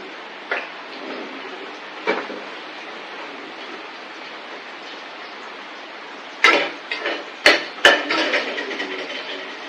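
Curry leaves and fenugreek seeds fry in oil in a pan for a brinjal and raw mango sambar. A steady close hiss runs throughout, with a few sharp crackling pops early on and a burst of spluttering near the end. No one speaks.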